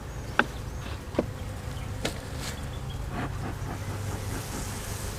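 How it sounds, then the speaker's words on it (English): Honey bees at a beehive during queen grafting, a continuous low buzzing hum close by with a few sharp knocks and taps from handling frames, no talk. "Yeah, there's still a lot of bees."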